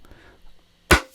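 A single bongo drum sample with a thudding hit lands as one sharp, loud percussive strike after a near-silent lead-in, decaying quickly.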